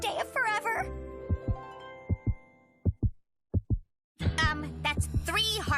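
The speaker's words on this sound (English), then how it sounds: "Now to hear our two beating hearts on the first day of forever." Cartoon heartbeat effect from Grojband: a run of soft, evenly spaced low thumps in pairs, framed by animated character voices before and after.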